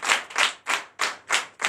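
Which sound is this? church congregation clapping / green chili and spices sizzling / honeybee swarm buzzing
church congregation clapping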